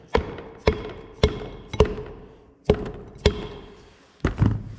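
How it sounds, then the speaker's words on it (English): A plastic hammer knocks a piston out of a John Deere 4840 engine during an overhaul: seven sharp, loud, close knocks at uneven intervals, each ringing briefly before fading, with no talk. "plastic hammer, knock him out."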